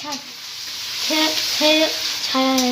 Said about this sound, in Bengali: এই দেখুন পুট পুট পুট পুট করছে।